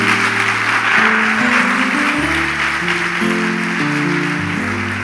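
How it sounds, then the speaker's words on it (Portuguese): A church congregation at a Sunday evening Baptist service claps steadily and loudly, a dense continuous wash of applause heard alongside sustained musical notes, with no talk. "melhora essas palmas, né?"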